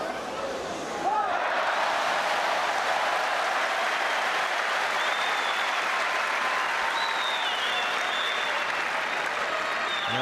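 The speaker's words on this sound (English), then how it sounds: "The Argentinian crowd here really rallying Puerta." Tennis crowd at Roland Garros during the 2005 final between Nadal and Puerta applauding steadily, a dense sustained wash of clapping and cheering from a large stadium audience that runs throughout.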